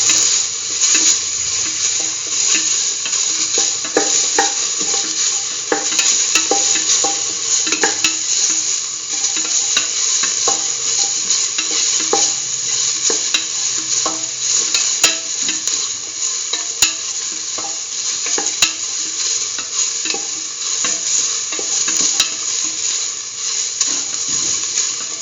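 Corn coconut milk rice is sautéed in a pan with a constant close sizzle and frequent sharp spatula clicks and scrapes against the metal, heard alone for a long stretch.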